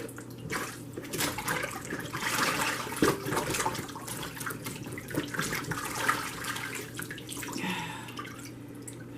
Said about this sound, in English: Now, we get to wash our celery stalks.